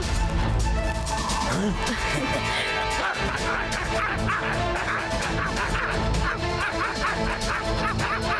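Voices imitating dogs, yapping and barking in a noisy, overlapping jumble, with loud background music throughout.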